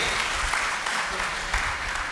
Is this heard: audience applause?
yes